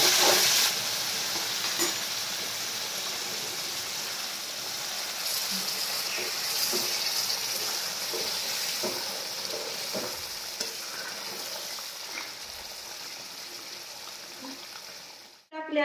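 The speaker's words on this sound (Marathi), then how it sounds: "आपली मस्त फुडणी बसलेली पण आहे" A spice tempering crackles and sizzles in hot oil for a dhaba-style matar paneer, a steady close frying hiss with scattered light pops and clatter that cuts off abruptly at the end.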